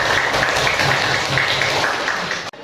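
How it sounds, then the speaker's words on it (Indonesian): A class audience breaks into applause for a presenter, a dense, steady wash of clapping close by that runs for a couple of seconds before stopping abruptly. "Tepuk tangan buat Mas Wisnu"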